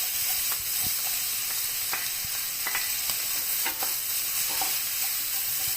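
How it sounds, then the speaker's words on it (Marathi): Onions fry in hot oil for pav bhaji, giving a steady close sizzle broken by scattered scraping clicks from stirring. No voice is heard. "तेल गरम झालेलं आहे, आता ह्यामध्ये ना आपल्याला कांदा आधी परतून घ्यायचा आहे"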